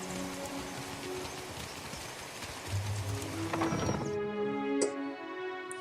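Steady rain hisses through a scene in the fantasy role-playing game Pillars of Eternity II, a dense wash of patter at even loudness with faint tonal game sounds and brief clicks near the end.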